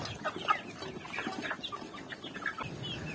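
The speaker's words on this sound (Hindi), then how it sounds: "आज के व्लॉग में हम लेकर आए हैं मुर्गियाँ" Several chickens cluck in short, irregular bursts at close to moderate distance over a soft, steady background, with no speech.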